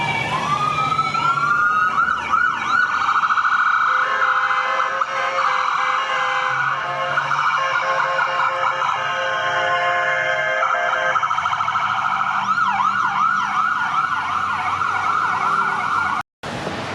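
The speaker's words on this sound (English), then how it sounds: "several emergency vehicles passed by with lights and sirens active" Several emergency vehicles pass in Westwood on a rainy day, their wailing and yelping sirens loud and continuous, shifting patterns over one another, ending with an abrupt brief cutout.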